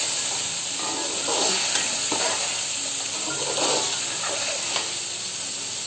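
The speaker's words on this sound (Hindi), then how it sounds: "अंडों के साथ थोड़ा सा भून लेते हैं।" Boiled eggs fry and get stirred into cooked masala in a pan for an aloo ande ka salan, giving a steady close sizzle with soft scraping stir strokes throughout and no voices.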